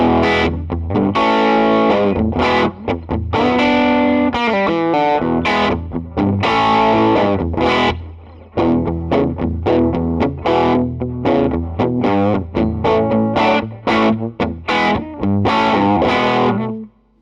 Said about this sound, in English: when you play the chords, you can still distinguish the notes, but it's got that breaking up sound